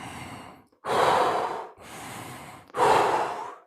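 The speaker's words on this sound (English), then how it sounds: "Or you can do what they call reverse breathing, where you inhale, belly goes in, and exhale, belly goes out." Slow, deliberate qigong reverse breathing sounds close to the microphone: a quieter breath, then loud rushing inhales and exhales in alternating long strokes, each lasting about a second, with short pauses and no talking.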